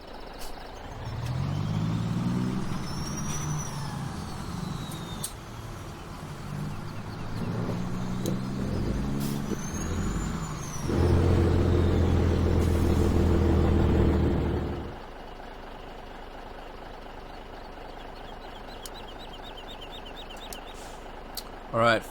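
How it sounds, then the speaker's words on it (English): A heavy farm truck engine in Farming Simulator 17, a steady low drone with a louder, heavier stretch in the middle before it eases off, with talk over parts of it. "Let me get one of these trucks out there and finish picking up our crops."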